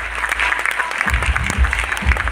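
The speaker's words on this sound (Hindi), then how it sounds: "तालियों को जोरदार होना चाहिए दोस्तों" Audience applause at a Modicare Azadi celebration event, loud and continuous clapping from a large crowd, with brief low thumps partway through.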